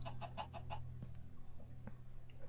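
Video game chickens cluck in a quick run of about five short notes near the start, then fall quiet beneath a steady low ambient hum with a few faint clicks.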